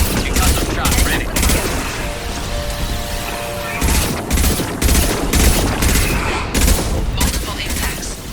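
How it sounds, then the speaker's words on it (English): Weapon fire and impacts striking a Collector vessel in Mass Effect 2: rapid bursts of gunfire and booming hits in irregular clusters, loud and close, over a continuous rumbling battle din. "Multiple impacts. Collector vessel is taking damage."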